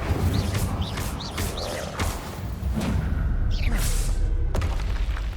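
Incendio fire spells cast in Hogwarts Legacy: whooshing bursts and booming impacts layered over steady game music and effects, loud and continuous across the whole stretch.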